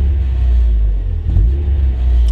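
A Mazda Miata NA idles with a deep, steady exhaust rumble, and a brief rougher rattling surge from a bad exhaust resonator comes partway through before the low drone settles again.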